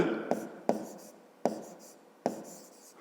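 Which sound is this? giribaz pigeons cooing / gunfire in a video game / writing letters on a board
writing letters on a board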